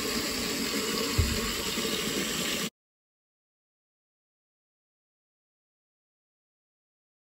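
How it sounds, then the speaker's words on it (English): Cold water pours steadily into a calf's water bowl, a close, continuous gushing rush that stops abruptly partway through, followed by silence. "Here we got the calf's water bowl, and here we got cold water, so I'm just gonna fill it up."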